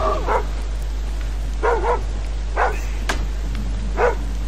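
A dog in the stealth game Thief barks repeatedly, four spaced yips and barks at a moderate distance over a constant low ambient drone.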